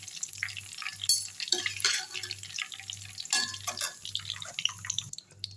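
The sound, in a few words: curry leaves frying in hot oil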